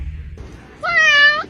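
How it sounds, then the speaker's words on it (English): A cat gives a single clear, fairly loud meow near the end, after a stretch of quiet room noise. "You have the cutest little meow."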